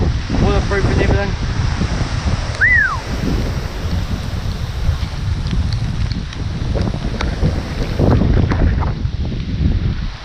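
Strong wind buffets the microphone outdoors at a wet bushcraft camp, a loud continuous rumbling roar with gusts throughout, and a voice briefly heard near the start.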